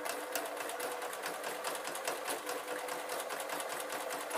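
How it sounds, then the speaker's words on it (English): A sewing machine runs continuously, stitching through several layers of felt hat binding on a beret, a quiet rapid chatter of needle strokes with no pauses. "I am sewing quite a few levels of fabric"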